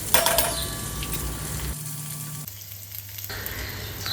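Bitter gourd curry with cashews and raisins cooks in a pan over a low flame, giving a steady close sizzle with occasional light clinks of the pan and spoon, no talking.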